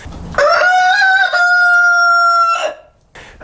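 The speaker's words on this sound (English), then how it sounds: "We have lots of roosters running around here, and they seem to crow all the time." A rooster crows once, loud and close, a long drawn-out call with a rising start and a sustained, strained ending, followed by a brief pause and faint noise.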